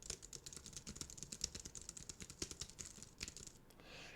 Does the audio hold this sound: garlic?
no